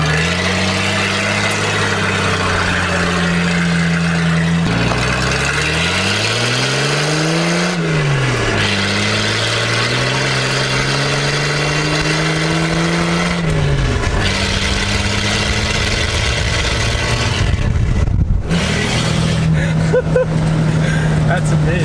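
A straight-piped, naturally aspirated Nissan Patrol with a TD42 diesel engine, droning loud and close as the revs rise and fall in several sweeps, with voices talking over it.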